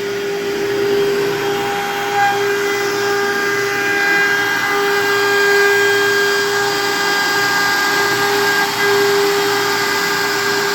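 Onefinity CNC router cuts cabinet-grade plywood with a 60-degree bit, a steady high whine with sustained tonal hum running continuously alongside dust collection noise, loud and near without talk.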